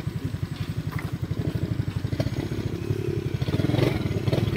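A motorcycle engine chugs steadily with a regular low pulse as it rides along a rough road, loud and near, with light clatter and a slight rise in effort toward the end.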